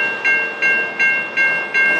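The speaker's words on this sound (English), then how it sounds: "There's a lot of train traffic through here, whether it be Norfolk Southern trains, Amtrak's." A train sounds at a busy rail crossing in Durham used by Norfolk Southern and Amtrak trains, with loud, evenly spaced bursts repeating about every third of a second over a steady tonal hum.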